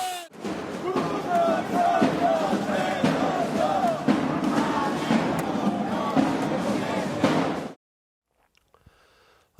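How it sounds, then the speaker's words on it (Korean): A large political rally crowd shouts and roars continuously, with voices rising in waves for several seconds before cutting off abruptly into near silence. "우리 함성을 멈추지 맙시다, 여러분."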